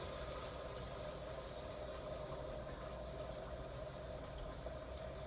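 Liquid nitrogen boils around a beaker as it cools to the nitrogen's temperature, making a faint, steady broadband hiss and seething rumble with no pauses and no voices.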